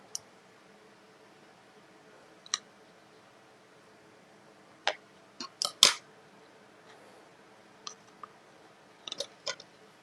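Scissors snip during a craft project, a handful of sharp, sparse clicks and cuts in small clusters, faint and close against a quiet background.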